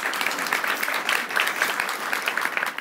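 A studio audience at the Turkish comedy stand-up show Çimen Show breaks into sustained, lively applause, a thick, crackling bed of many hands clapping that holds steady throughout.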